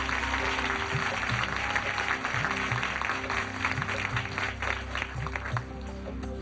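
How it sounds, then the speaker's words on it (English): Studio audience applause on a television game show, steady sustained clapping mixed with a low rhythmic musical bed throughout. "Let's give them a round of applause."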